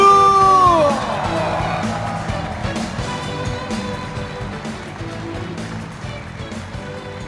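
A large crowd at a party founding ceremony in an exhibition hall cheers and claps after a countdown, a loud roaring wash of voices and applause that settles into a sustained crowd din.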